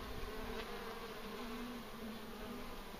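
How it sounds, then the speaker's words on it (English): A dense, steady buzzing of many festooning honeybees inside a struggling hive fills the clip, loud and continuous with no voices. "Crazy bees festooning."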